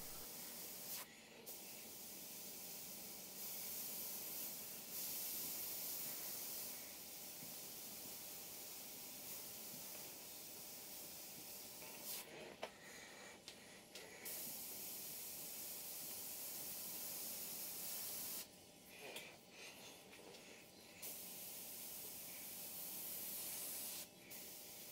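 An airbrush sprays paint onto a sea turtle figure, a soft continuous hiss broken by brief pauses and small variations in intensity, close and alone without talking.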